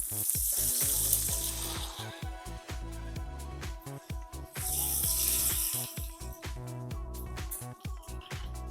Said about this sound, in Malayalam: ജിഞ്ചറും ഗാർലിക്കും നമ്മളൊന്ന് ബട്ടർ ഇട്ടിട്ട് നമ്മളൊന്ന് വറുത്ത് കോരാൻ പോവാണ്